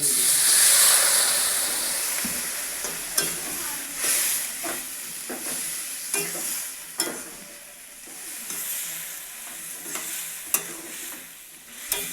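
Water is poured into a hot pan over a newly built clay stove while a vegetarian bean dish cooks, giving a strong hiss and sizzle that fades into intermittent stirring clatter and bubbling.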